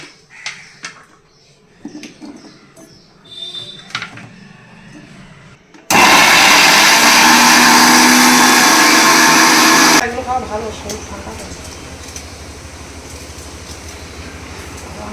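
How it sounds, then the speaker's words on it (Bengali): An electric blender grinds spices for home cooking, a loud steady roar for about four seconds that then drops to a lower whir, preceded by kitchen clatter and voices. "এবার সব এক এক করে সব মশলাগুলোও বেটে নেব"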